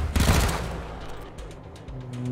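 A gunshot headshot in the video game Wasteland 3, a single loud sharp blast with a short rumbling tail and faint rattling after, alone with no talking.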